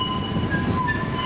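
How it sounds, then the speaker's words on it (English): Blackpool Pleasure Beach Express ride train rolling along its track with a steady rumble, thin high squeaking tones drifting in and out overhead, close and continuous without any talk. "It's a bit squeaky on the Express today."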